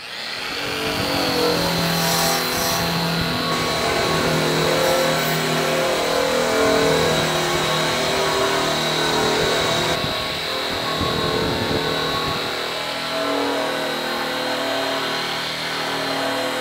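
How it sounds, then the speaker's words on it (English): Aluminum diamond plate being buffed with a satin airway buff on a power polisher, a loud steady whine running continuously with slight pitch shifts as the buff moves up and down across the plate. "I've got my diamond plate prepped now using the satin airways buff"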